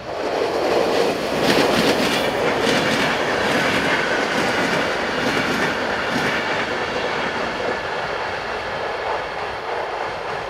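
An intercity passenger train hauled by EU07 electric locomotive 001, running Gdynia to Poznan in Poland, rolls past close by, a loud, steady rumble of wheels and clatter on the rails that fades slightly toward the end.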